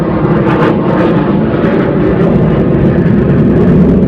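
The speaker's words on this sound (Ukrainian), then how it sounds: "наша авіація працює." Aircraft passing overhead above a vineyard and garden in June, a loud, steady low engine roar that holds at full strength throughout with no talking.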